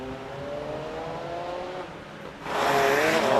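A rally car launches from the start of a special stage in Wairoa, its engine note droning steadily and then surging into a loud, roaring burst of acceleration as it pulls away.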